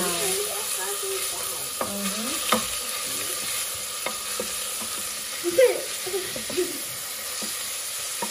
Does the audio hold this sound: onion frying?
yes